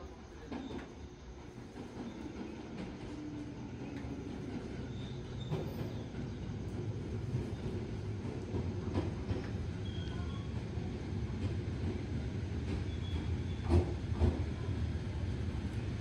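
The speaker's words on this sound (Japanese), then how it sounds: "線に列車が参ります。" A 211-series electric train (set N325) on the Shinonoi Line pulls into Shinonoi Station with a steady rolling rumble, soft rhythmic wheel clatter and occasional squeals, heard from the platform at moderate distance.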